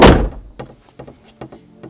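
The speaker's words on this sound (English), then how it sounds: "we need to close the sliding door" A camper van's sliding door is pulled shut with a loud, heavy thunk at the start, then a few fainter knocks and rattles of the door settling into place.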